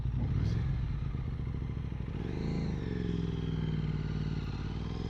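An Aprilia RS 660 sport motorcycle engine runs nearby with a steady, loud mechanical drone and rising and falling revs as it pulls away.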